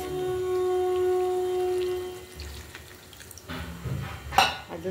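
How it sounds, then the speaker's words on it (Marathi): Water poured from a vessel into a cooking pan of potatoes sticking to the bottom, a steady running pour for about two seconds, then a quieter sizzle and a few clinks near the end. "आता बटाटे चिपकायला लागलेत खाली, थोडंसं पाणी टाकू"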